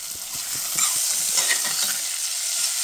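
Sautéed yuca with sazon powder sizzles in a pan, with a few soft scrapes of stirring early on and then a steady hiss.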